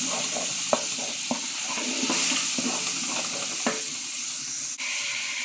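Ginger and garlic frying in a pan, a steady sizzle with several sharp scrapes and clacks of stirring at irregular intervals, close and fairly quiet.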